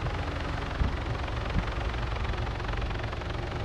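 A helicopter in the video game Arma 3 comes in to land, giving a steady, loud low-pitched rotor and engine drone that continues unbroken throughout with no talking.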